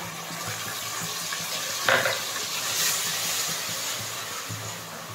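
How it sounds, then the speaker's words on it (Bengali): Tomato paste goes into frying ginger paste for a vegetarian paneer kofta curry, setting off a steady close sizzle with soft stirring and a brief louder splash in the middle; no talk. "এবার দিয়ে দেব টমেটো পেস্টটা"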